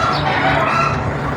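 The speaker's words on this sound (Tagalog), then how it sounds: "Manok lang pala. Takot ka pala sa manok eh." Chickens clucking nearby on a morning walk outdoors, a continuous dense mix of fowl calls filling the short moment without speech.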